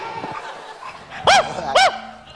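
A dog barks twice in quick succession, loud and close, over a low background with faint earlier sounds.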